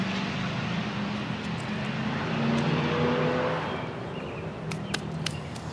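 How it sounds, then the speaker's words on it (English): Harley-Davidson motorcycles ride past outside on Memorial Weekend, a steady low engine rumble that swells slightly midway and eases off, heard at some distance without any talk. "Everybody's out riding their Harleys for Memorial Weekend, so it's a little noisy."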